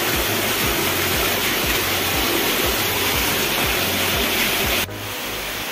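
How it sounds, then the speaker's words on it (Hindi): Water pouring down from above at a hillside temple, a loud, dense, continuous rush close by that drops slightly in level near the end, with no talk. "ये ऊपर से धारा आ रही है।"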